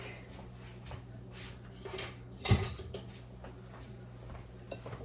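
Rummaging through a kitchen drawer for a whisk while baking chocolate chip cookies: metal utensils and cutlery clatter and clink close by, with one sharper clank partway through amid softer rattling.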